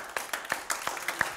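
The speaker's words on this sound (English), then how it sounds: "Give the Lord a hand clap." A church congregation claps by hand at a Sunday service, a quick run of sharp, irregular claps from a few people nearby, fairly quiet.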